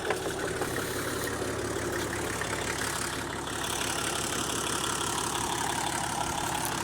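An engine-driven cane mill runs steadily to press cane for syrup, giving a continuous, loud mechanical engine drone with a low rumble that holds even throughout, with no talking.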